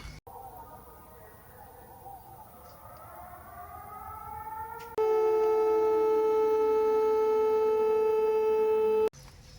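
An air raid siren wails at a distance at night in Kharkiv, Ukraine, its pitch sliding, then a louder steady siren tone holds for several seconds before stopping abruptly.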